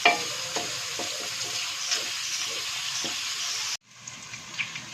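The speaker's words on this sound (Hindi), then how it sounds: "कीमा डाल के हमने इसको अच्छी तरह से भून लेना।" Minced chicken keema fries in a pan, with a steady close sizzle and repeated scrapes of a spoon stirring the meat, before the sizzle suddenly drops to a quieter hiss.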